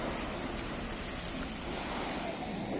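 Winter sea waves wash steadily onto the shore at Odesa, a continuous loud roar of surf with wind blowing across the microphone and no voices.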